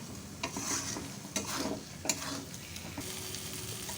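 Egg curry masala with potato being sautéed and stirred in a pan, a soft continuous sizzle broken by several sharp spoon scrapes and clinks, close and without talk.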